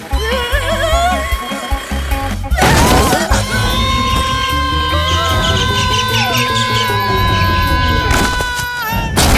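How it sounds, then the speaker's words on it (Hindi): A watermelon smashes as a car bursts it, a loud sudden crash near 2.5 seconds set against a dense, steady bed of film music with tonal sound running throughout. "तरबूज फूट गया"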